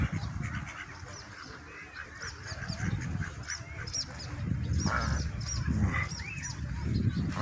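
A flock of swans and tame wild ducks at Shepilsk honks and quacks repeatedly, a busy overlapping chorus close by that grows louder toward the end, with little talk.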